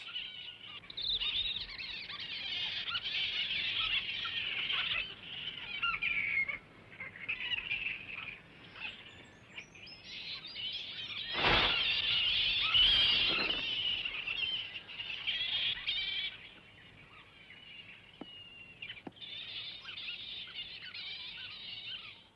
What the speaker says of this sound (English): Giant fruit bats.